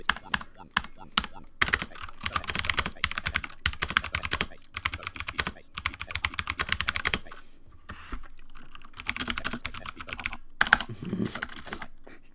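Rapid clattering keystrokes on a Mac Pro computer keyboard, typed in bursts with short pauses, close and fairly loud throughout.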